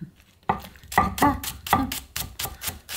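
A knife chops green onion on a cutting board in quick, close, crisp strikes, about ten sharp cuts in an even fast rhythm.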